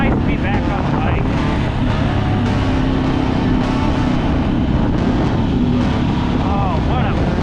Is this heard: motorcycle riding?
yes